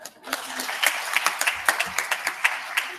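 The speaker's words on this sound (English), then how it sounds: "And may I also ask your applause for this nice" Audience applause at the close of a policy panel event, a steady wash of many hands clapping with individual claps popping through, filling the room at moderate loudness for about three seconds.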